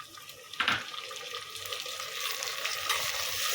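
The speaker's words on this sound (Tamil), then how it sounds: "தக்காளி நல்லா வதங்குற வரைக்கும் நம்ம வெயிட் பண்ணணும்." Chopped tomatoes sauté in a pan of golden fried onions for a South Indian fish curry, giving a steady broadband sizzle with a sharp stir or clatter early on, close and continuous with no talk.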